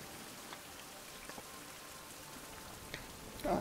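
Rain falling steadily, a soft, faint patter with a few louder drops.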